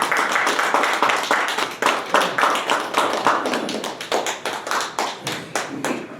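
An audience applauds a retired Marine Corps general as he is welcomed to give a lecture at an anti-corruption leadership course, with steady, close clapping from a modest crowd that runs for several seconds and slowly thins toward the end.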